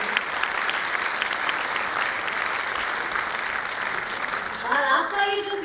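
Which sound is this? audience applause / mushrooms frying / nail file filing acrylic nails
audience applause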